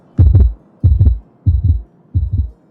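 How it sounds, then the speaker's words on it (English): Deep, loud double-thump heartbeat in the video game Book of Hours, four lub-dub pairs at an even, slow pace with brief silences between them and nothing else heard. "There's definitely more heartbeat."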